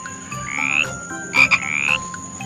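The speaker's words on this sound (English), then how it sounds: "F for frog." A frog croaks up close in two or three rising, rasping calls with a brief stutter between them, over a faint background hum.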